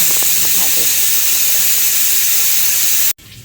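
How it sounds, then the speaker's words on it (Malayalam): Chopped okra frying in a pan, a loud, steady broadband sizzle and hiss that runs continuously before cutting off abruptly near the end. "ഇതാ ഒരു വെണ്ട ഇവിടെ അരിഞ്ഞു വെച്ചിട്ടുണ്ട് അതൊന്ന് വറവാക്കട്ടെ"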